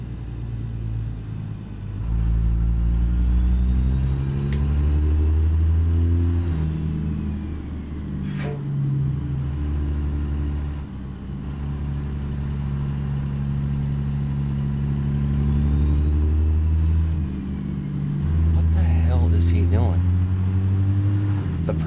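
A heavy engine drone in American Truck Simulator as trucks pass on a hill climb, loud and continuous, its pitch rising and falling with the passing traffic.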